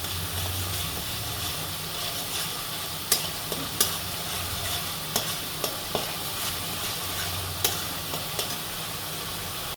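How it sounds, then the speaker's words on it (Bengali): Onions fry in a pan with a continuous close sizzle and hiss, broken by a run of sharp clicks and scrapes from a spoon stirring against the pan, with no talking. "পেঁয়াজটা দেখো ভালোভাবে ভাজা ভাজা হয়ে গেছে।"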